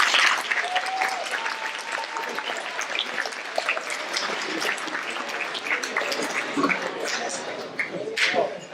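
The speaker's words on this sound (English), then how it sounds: "Let's give him one more round of applause" A dinner crowd at a military institute squadron event gives a round of applause, steady mid-level clapping lasting several seconds with scattered voices and clinking beneath it.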